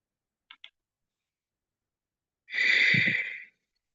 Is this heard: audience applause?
no